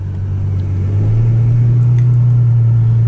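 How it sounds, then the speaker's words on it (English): Ferrari F12 V12 driving in manual mode on a sunny day in New Jersey, a loud, steady low engine drone heard from inside the car, holding a constant note with no talking. "let's take this V12 bad boy for a ride"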